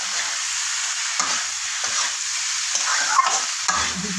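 Masala powder mixed with water is stirred in a pan, giving repeated scraping strokes over a soft, constant sizzle, close and fairly loud, with no voices.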